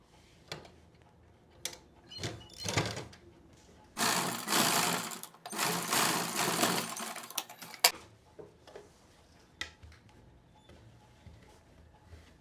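A sewing machine stitching the side seam of a blouse, running in short bursts and then a longer steady whir, with clicks and handling sounds in the gaps between.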